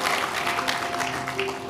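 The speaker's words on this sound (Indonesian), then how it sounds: "Tepuk tangan bagi Tuhan yang di atas" A church congregation claps during a sermon, a dense, steady patter of hands with some tonal murmur beneath, moderately loud and continuous for a brief moment.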